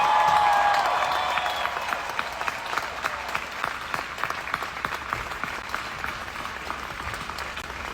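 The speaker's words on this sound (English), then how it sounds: "could I please get a huge round of applause for all the graduates here today?" A commencement crowd gives the graduating class a long round of applause, loud at first and then tapering to a steady patter of clapping with faint cheers.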